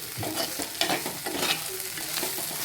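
Ingredients for an egg curry sautéed in oil in a pan, a continuous sizzle with soft stirring scrapes layered over it, steady and close, with no talking.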